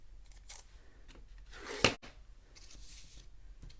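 Scissors snip through paper while a bell shape is cut out: a few soft, close, crisp cuts, with one sharper snip standing out among quiet rustling.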